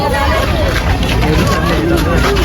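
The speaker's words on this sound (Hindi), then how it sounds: "इतनी भीड़ है।" Dense crowd babble fills a busy market in Jharkhand, many overlapping voices chattering close by at a loud, steady level, with no single speaker standing out.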